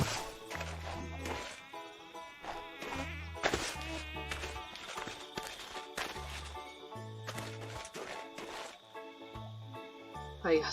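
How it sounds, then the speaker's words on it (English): A bee buzzes in modded Minecraft, a thin insect whine rising and falling over blocky game music and effects, faint and intermittent beneath a person talking. "At this point I heard a bee, which really scared me."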